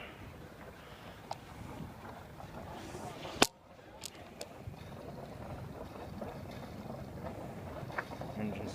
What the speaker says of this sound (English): Engine started, purring away.